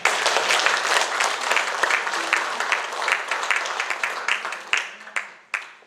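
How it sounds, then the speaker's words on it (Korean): A hall audience at a forum honouring founding president Syngman Rhee applauds the LA chapter. The dense, loud clapping gradually thins and fades into a few scattered, separate claps at the end. "LA 지회 여러분 성원의 박수를 보내주시면 고맙겠습니다"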